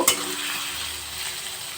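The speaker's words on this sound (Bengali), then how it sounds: "গ্যাসের ফ্লেমটা বাড়িয়ে এবার আলুগুলো ভালো করে ভেজে নেব" Potatoes seasoned with turmeric fry in a pan over a raised gas flame, giving a steady close hiss of sizzling with a brief clink of stirring at the start.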